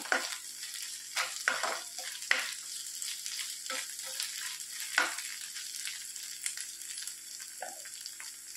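Onions with ginger-garlic paste fry in a pan for an egg masala gravy, a steady close sizzle broken by several louder scraping stirs, with no voices.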